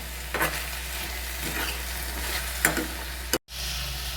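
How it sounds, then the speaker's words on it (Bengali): Vinegar-soaked chillies tossed into frying prawns for Kolkata-style gravy chowmein, giving a steady loud sizzle with stirring scrapes and a brief dropout near the end. "এবার আমি ভিনিগারে ভিজিয়ে রাখা লঙ্কাটা তুলে দিয়ে দিচ্ছি"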